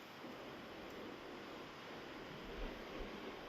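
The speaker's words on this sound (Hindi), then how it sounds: "और हवा भी काफ़ी तेज़ चल रही है, ये देखो हवा के साथ में और बर्फ़ उड़ रही है।" Strong wind blowing snow around a truck stuck in heavy snowfall in Germany, a steady, dense broadband roar with no pauses, close and fairly loud throughout.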